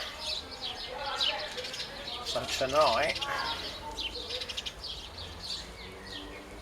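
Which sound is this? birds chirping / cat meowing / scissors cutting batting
birds chirping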